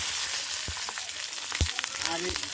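Green chillies fry in a pan for bean bharta, a soft continuous sizzle with a few quiet stirring knocks, alone and fairly faint.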